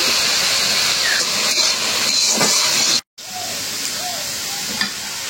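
Ginger garlic paste and cumin powder fry in a hot pan with a loud, steady sizzling hiss that cuts out for a split second before carrying on.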